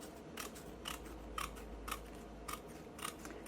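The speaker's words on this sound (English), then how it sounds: "So all I'm doing is just trimming off the excess." Scissors trim excess paper off a handmade no-sew ephemera folder, giving about seven crisp, evenly spaced snips roughly every half second, close and clear against a quiet room.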